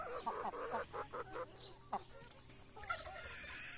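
Five-month-old upgraded native chickens clucking in a series of short, irregular calls, close and fairly quiet over a low rural background hum.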